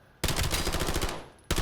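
Rapid submachine gun fire in Black Ops 7, a fast, loud, close burst lasting about a second, then a brief pause before a second burst starts.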